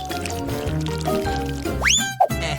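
Melted chocolate pours over a doughnut in a steady close stream, with faint trickling and a few drips near the end, heard over soft background music.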